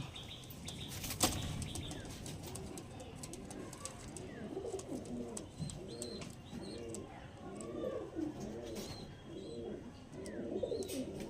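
Pigeons coo in soft repeated phrases while wings flap in bursts, with a quiet outdoor background.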